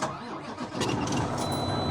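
A truck engine cranks and catches, turning over into a rougher running rumble, moderately loud and close with no talk.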